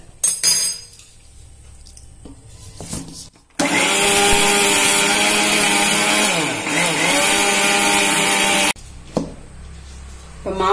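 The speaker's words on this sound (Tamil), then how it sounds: "சேர்த்துட்டு மாவு அரைச்சிடலாம். மாவு நல்லா மழமழன்னு அரைச்சிக்கலாங்க." A kitchen grinder grinds rice flour with cardamom until smooth. It runs loud and harsh for about five seconds, with quieter handling clatter before it starts and after it stops.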